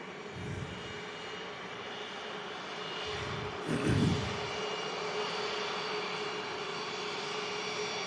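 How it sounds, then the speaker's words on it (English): A Cessna 525 business jet vacates the runway at Manchester Airport in thick fog, its engines a steady distant whine and roar with a brief low swell partway through. "Aircraft's just vacating here. Cessna 525 Alpha."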